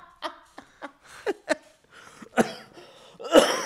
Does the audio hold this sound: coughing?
yes